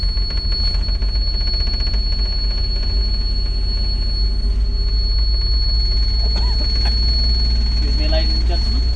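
Engine running hard at full throttle, a loud steady low droning rumble with a constant high whine above it, continuous and close, with talking over it.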